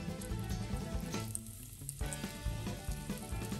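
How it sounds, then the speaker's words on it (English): Sea robin fish frying in a pan give off a dense, crackling sizzle with sharp pops and a brief dip midway, close and steady with no talk. "So let's get them in the frying pan."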